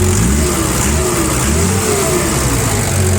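A Komatsu 4.5-ton forklift engine revs up and back down several times, pitch rising and falling over a continuous close rumble, with no talking.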